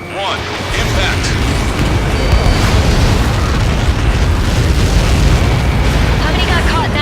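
A massive explosion from a Helios projectile impact in the Ace Combat 7 video game, a sustained, loud, roaring blast that rumbles and crackles continuously at close range for several seconds.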